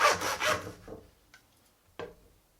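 Knife drawn through fat while trimming a rack of lamb, one longer scraping stroke followed by quieter cuts and a brief final slice, close with no talk.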